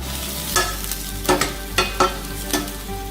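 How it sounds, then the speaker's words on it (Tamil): Garlic sautéing in a pan, stirred in a few distinct scraping strokes over a steady low sizzle, close up with no one talking. "பூண்டு சேர்த்துடலாம். பூண்டு நல்லா வதக்கிக்கலாம்."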